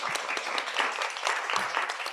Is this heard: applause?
yes